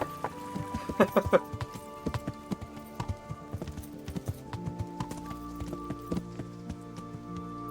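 Horse hooves clip-clop in a steady trotting rhythm in Kingdom Come: Deliverance, close and fairly loud over a faint backdrop of game music, with a brief nearby voice.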